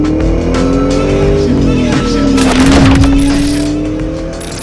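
A 2004 Ford SVT Cobra with 19,000 miles accelerating hard on a test drive, its engine note climbing loud and close through a gear change, with a brief tire squeal and road noise around the middle.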